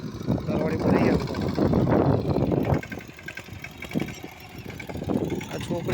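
A girl drives a tractor whose engine chugs and rumbles loudly at close range, with wind buffeting the microphone and a person talking over the engine noise.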